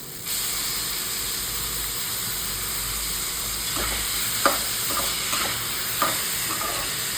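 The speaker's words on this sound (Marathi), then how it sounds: "एक मिनिट परतून घ्या मटकीला सुद्धा" Matki (moth beans) stir-fried with masala in a pan for a Marathi moth bean curry, giving a steady close sizzle and hiss with scraping spoon strokes and a few sharp clinks toward the end, no talking.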